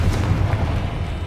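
A Confringo fire spell blasts in Hogwarts Legacy inside a tomb, a dense, loud, rumbling explosion that fills the whole moment with a heavy low boom and sustained roar.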